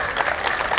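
Audience applause at an architecture conference in Xalapa, a brief dense patter of many hands clapping together at moderate loudness, filling the room without a pause.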